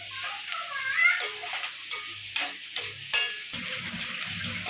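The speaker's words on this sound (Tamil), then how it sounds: "ஆனியன் போட்டு நல்லா கொஞ்சம் ஃப்ரை ப்ரௌன் டிஷ்ஷாக ஆகிறத கொஞ்சம் வதக்கலாம்." Onion frying in a pan for prawn thokku while being stirred, with a steady sizzle and repeated scraping strokes of a spoon, plus occasional light metallic taps.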